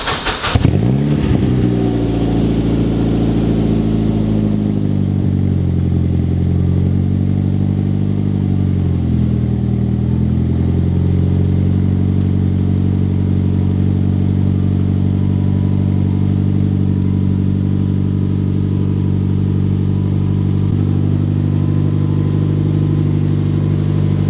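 A built turbo Mazda 3 race car idling and revving loudly up close, its exhaust droning with a deep layered rumble that rises and falls through several throttle blips before settling into a steady, rough idle.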